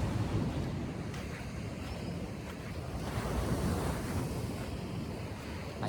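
Surf at high tide breaking on a beach in Casiguran, Aurora, a steady roar of waves rolling in with heavy wind buffeting the microphone throughout, no voices.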